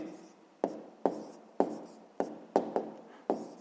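A pen scratches out an answer in a notebook in a series of separate short strokes, each a crisp attack that fades quickly, close and quiet.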